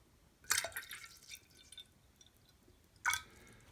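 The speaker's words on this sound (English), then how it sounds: "So I can actually pour a little more water." Water poured onto peat moss in a carnivorous plant propagation terrarium, two short close splashing bursts with soft drips and squishy soaking between them, quiet overall.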